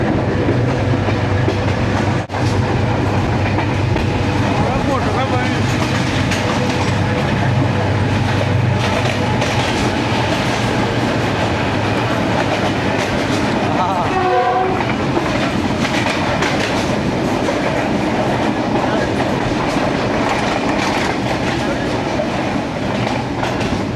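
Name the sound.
passenger train running on rails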